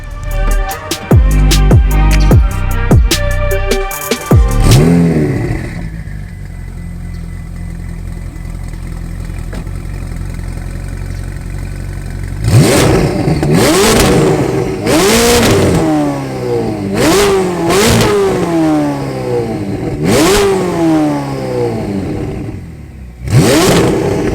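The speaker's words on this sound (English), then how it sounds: "back-to-back sounds of the IPE exhaust, one on the V8 twin turbo, the other on the naturally aspirated V12" Loud, close Ferrari engine revs through an IPE aftermarket exhaust: a rapid burst of sharp blips, a steady idle, then several deep, aggressive revs rising and falling in quick succession.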